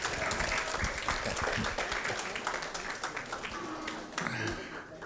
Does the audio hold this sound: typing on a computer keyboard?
no